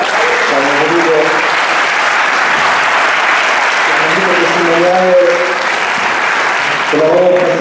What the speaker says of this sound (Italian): ai quali rivolgiamo un applauso.